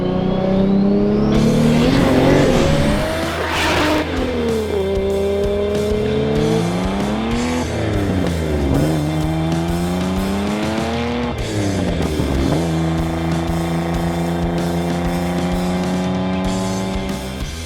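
A modified single-turbo Toyota Supra accelerates hard through several gears, its engine note climbing and dropping with each shift while tires squeal, loud and close, with no talking.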